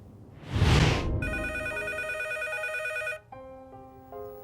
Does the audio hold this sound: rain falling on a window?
no